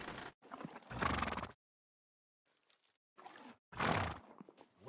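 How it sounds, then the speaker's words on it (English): A horse in the video game Kingdom Come Deliverance II, a Malashov horse, gives loud, close bursts of whinnying and snorting, broken by a short silent gap, with no talking. "Now you're the proud owner of a Malashov horse."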